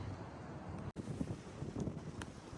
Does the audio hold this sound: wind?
yes